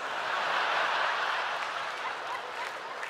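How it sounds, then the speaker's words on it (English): A comedy-show audience gives a steady, sustained round of applause with dense, even clapping from start to finish. "You're applauding, but it's unprofessional in my opinion"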